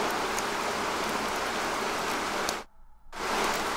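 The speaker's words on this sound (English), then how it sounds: "You have a rain noise," Steady synthetic rain noise from a macOS background noise app, even and continuous broadband hiss, cutting out briefly into silence before resuming at the same level.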